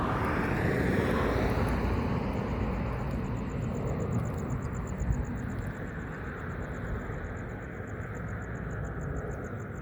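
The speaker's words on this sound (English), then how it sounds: "we got airplanes coming in over there" A loud, steady aircraft engine roars overhead for the whole stretch in East Mesa near a Google data center site, a broad rumble with a faint high whine, no talking.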